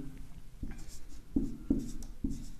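Marker or chalk strokes on a board during a Hindi grammar lesson, a handful of distinct taps and scrapes spaced irregularly, fairly close and alone.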